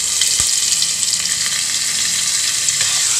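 Butter sizzles and fries in a pan already coated with a little oil, a steady close crackle with a brief sharp tap early on, no voices.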